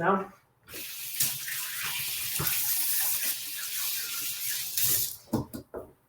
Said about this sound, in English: Let me wash my hands one more time.